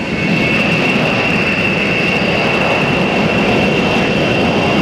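Jet engines of a B-1B Lancer bomber roar in a continuous, loud, broadband rush with a steady high whine, sustained without pause and with no talk.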